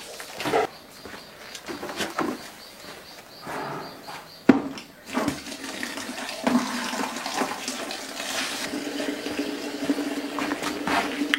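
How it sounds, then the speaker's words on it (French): Water gushes from a tap into a bucket for a bucket shower in the Madagascar rainforest, a steady close rushing and splashing fill with brief interruptions, birds faintly audible in the background. "La première étape, ça consiste donc à remplir son seau pour pouvoir en fait avoir de l'eau pour se laver."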